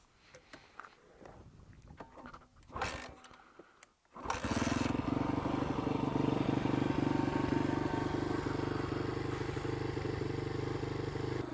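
Dirt bike fitted with its silencer baffle, a few faint clatters and cranking attempts, then the engine catches and settles into a steady, fairly loud idle that holds without letup.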